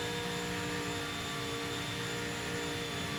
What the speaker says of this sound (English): full throttle through here.